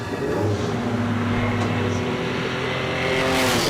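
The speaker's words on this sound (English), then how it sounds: "As we see Mark Gain in the green Holden LH Tirana now." A green Holden LH Torana race car works through a slippery hairpin at a lakeside hillclimb, its engine holding a steady, fairly close drone with slight shifts in pitch.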